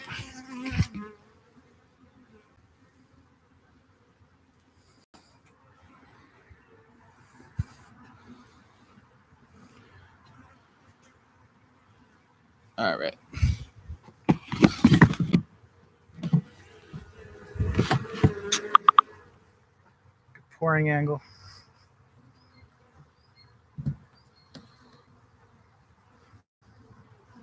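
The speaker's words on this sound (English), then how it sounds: "we're going to have to pour the bees and grab the cage out of the pile." Package honeybees poured into a hive during installation, a soft steady buzzing with clattering bursts and knocks partway through, under occasional brief talk.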